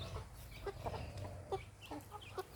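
Farm chickens clucking nearby in short, scattered bursts over a low rumbling background, fairly quiet overall.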